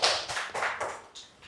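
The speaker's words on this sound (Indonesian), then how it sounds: "tepuk tangan untuk kelompok dua" Small group of students clapping for a classmates' group in a classroom, a short spatter of quick, fairly faint claps lasting about a second and a half with no talk.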